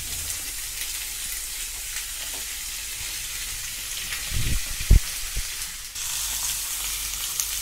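Vegetables slid into hot oil in a pan for a Bengali vegetarian torkari, a steady frying hiss with a sudden flare of crackling sizzle as they land, a few knocks of the pan, then continued sizzling.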